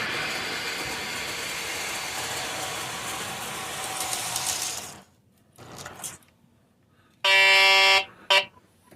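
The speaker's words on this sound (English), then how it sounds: "I'll stop the train here." A Conrail Consolidated model train set rumbles with steady mechanical running noise that cuts off as it stops. After a short quiet with faint clicks, a loud, sustained horn blast sounds, followed by a brief second toot.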